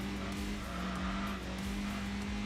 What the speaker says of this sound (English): you can hear the little inline 4, very high revving